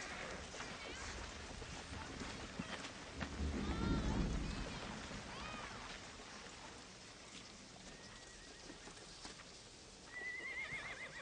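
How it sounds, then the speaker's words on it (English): Steady rain in a western TV drama, with a rumble of thunder, a horse whinnying and clip-clopping nearby, and faint voices in the background. "I want to get out of this rain"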